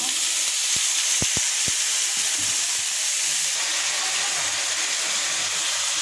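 Okra frying in hot oil spiced with salt, turmeric, ground coriander and cumin: a dense, steady sizzle fills the pan throughout, with a few sharp utensil taps and scrapes early on.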